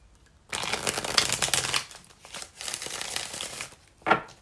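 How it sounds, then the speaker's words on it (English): Tarot cards are shuffled close by in a dense, papery riffling burst, then a short break, then more softer shuffling and a final quick snap of the deck. "I need to shuffle them once."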